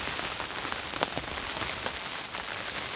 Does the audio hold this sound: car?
no